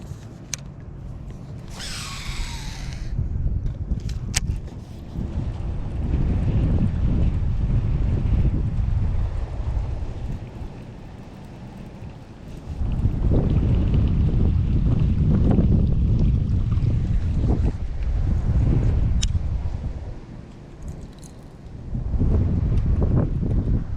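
Strong wind gusts buffet a kayak out on a small pond, roaring and rumbling steadily against the microphone in surging waves with no talking.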